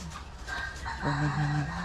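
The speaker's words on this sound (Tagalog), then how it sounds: "tinignan ko pala yung mga manok ko" Chickens cluck close by, with a few short calls, then a longer crowing-like cry rises near the end.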